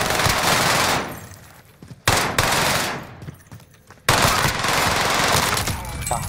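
Heavy automatic gunfire from Call of Duty Warzone on Rebirth Island, loud and dense bursts that cut off abruptly twice, each followed by quieter rattling and distant shots before the barrage resumes.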